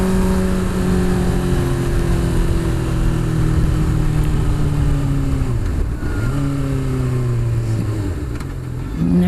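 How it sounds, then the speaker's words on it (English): A motorcycle rides close behind on the road, its engine droning steadily with rising and falling pitch as it shifts and revs, loud and continuous under the rider's own vehicle noise. "there's a bike behind me"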